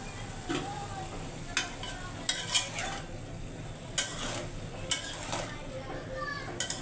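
Long beans, potato, tomato and green chilli fry in a pan with a steady sizzle, broken by several sharp scrapes and clinks as a spatula stirs and knocks against the metal.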